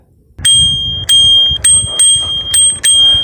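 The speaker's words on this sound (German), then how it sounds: "Was war das? Ein Fahrradklingel." A bicycle bell rings in several sharp, bright dings, spaced irregularly, close and loud over a low background rumble.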